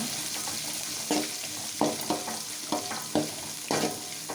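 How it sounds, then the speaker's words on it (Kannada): Onions frying in oil with mustard seeds, curry leaves and dried chillies, a continuous sizzle broken by repeated sharp scraping stirs at a regular pace, close and alone. "ಒಂದು ಮೂರರಿಂದ ನಾಲ್ಕು ನಿಮಿಷ ಚೆನ್ನಾಗಿ ಇದನ್ನು ಫ್ರೈ ಮಾಡ್ಕೊಳ್ಳಿ"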